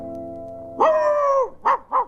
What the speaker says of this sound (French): un grand chien gris